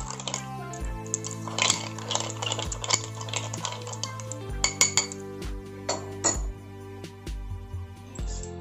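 A spoon stirs lemon soda with ice cream in a glass, giving bright, irregular clinks and scrapes against the glass over a steady low hum, with no voices.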